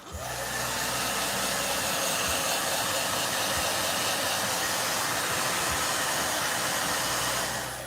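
A blow dryer drying watercolor paint on a sketch roars in a steady, loud, unbroken whoosh from start to finish, with no voices.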